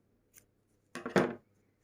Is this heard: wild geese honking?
no